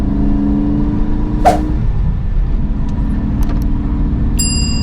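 A 1985 Ford Fiesta Mk2 with a 1.1-litre 50 horsepower engine hums steadily from inside the cabin while driving, its low engine note shifting pitch as it changes speed, with faint clicks and rattles over the drone.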